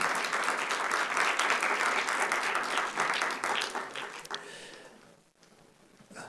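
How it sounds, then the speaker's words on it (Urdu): Audience clapping at a poetry and literature event, a dense sustained round of applause that fades out toward the end, leaving near quiet. "بجا دیجیے تالی تو میں آگے بات کروں"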